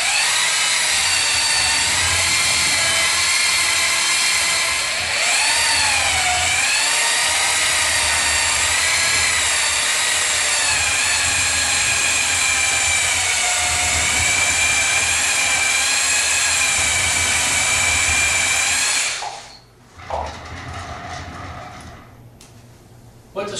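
A SMarT Star bowling ball sander buffs a bowling ball, producing a loud, steady, high-pitched motor whine with layered tones that waver slightly as the pitch shifts, running continuously for about nineteen seconds before spinning down.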